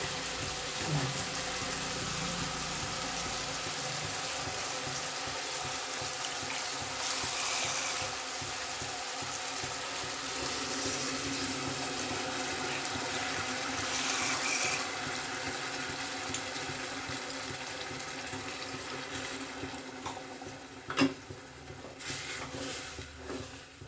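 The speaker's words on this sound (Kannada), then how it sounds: "ಇನ್ನೊಂದು ಸ್ವಲ್ಪ ನೀರು ಹಾಕುವ ಸಾಕು" Water pours steadily into a pot of ground paste for vegetable saagu, a soft continuous splashing trickle that holds fairly constant, with faint clatter near the end.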